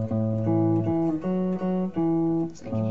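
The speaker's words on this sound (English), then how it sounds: "the sound of the 5th sounds like the Twinkle Twinkle Little Star" A fretted string instrument plays perfect fifth intervals as short, clean two-note phrases with a plucked attack. The notes ring in a steady sequence of several repeats, heard alone and close.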